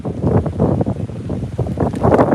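Gusty wind on a morning in Florida, tossing a tree covered in purple flowers and buffeting the microphone in loud, uneven rushes of low rumbling noise, with no voices.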